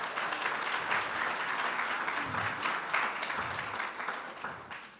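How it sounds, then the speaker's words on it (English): An audience applauds at a tech cohort demo day, a steady wash of clapping from many hands that holds for several seconds before tapering off near the end. "Can we have one more round of applause for Phil Weiser?"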